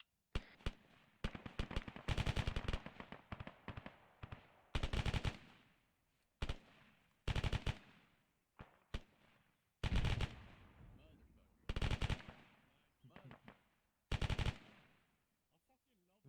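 Machine guns fire in a military simulation video game, loud repeated bursts of rapid shots separated by short pauses, with players talking between volleys.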